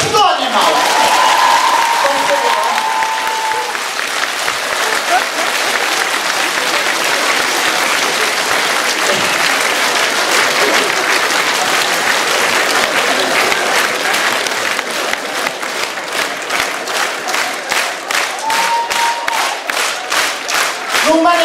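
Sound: concert audience applause

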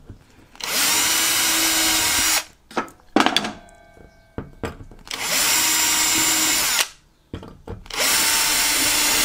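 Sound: power drill drilling through wood

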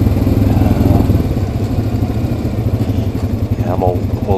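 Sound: ATV engine climbing a steep trail

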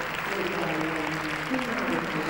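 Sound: audience applauding dancers leaving the floor

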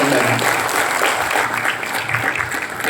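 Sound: audience applause

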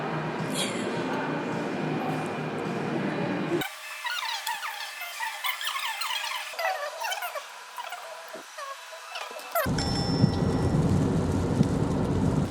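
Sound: heavy rain pouring during an approaching typhoon

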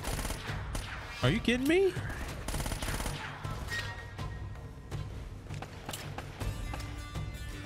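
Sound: gunfire in video game Uncharted: Drake's Fortune

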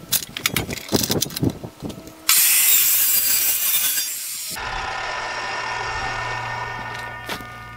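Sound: sawing a 2x3 wood scrap

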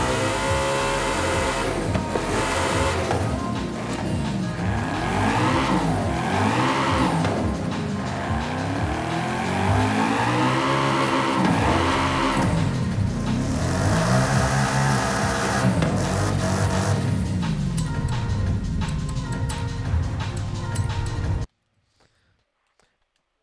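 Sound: car engine revving in the video game Forza Horizon 5

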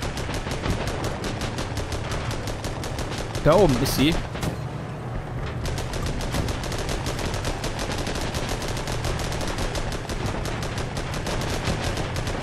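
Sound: rapid cannon and machine gun fire in video game Armored Battle Crew

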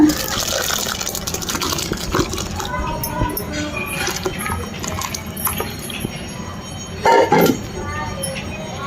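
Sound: pouring curdled milk through white cloth to make paneer

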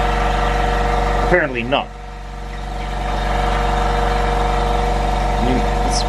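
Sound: air compressor running

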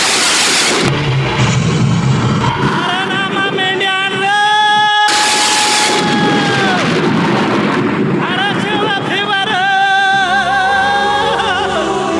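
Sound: thunder sound effect in a stage play

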